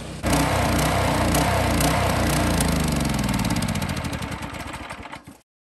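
A small carbureted engine idles with a close, loud, even chugging that gradually roughens and sputters as the fuel runs out, then stops abruptly. No one speaks.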